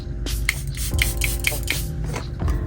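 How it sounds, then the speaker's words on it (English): Setting spray misted from a pump bottle during a makeup routine: a series of short, close hissing spritzes in quick succession, each a brief airy burst, with a low room hum underneath. "Well, setting spray."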